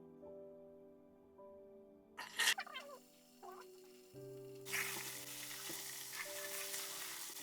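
Soaked chickpeas, drained of water, drop into four to five tablespoons of hot oil for a Kannada-style kadalekalu bassaru, sparking a loud, steady sizzle that runs to the end, preceded by brief meow-like cries and clatter.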